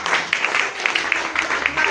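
A church congregation claps for Jesus in a dense, continuous patter of many hands, fairly loud and close, with a few sharper individual claps standing out.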